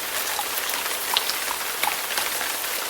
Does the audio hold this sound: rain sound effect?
yes